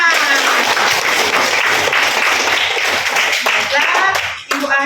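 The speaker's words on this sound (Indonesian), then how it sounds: "tepuk semua untuk kita semua" A classroom of students claps together in a loud, dense burst of hand clapping that runs steadily for several seconds, with voices mixed in.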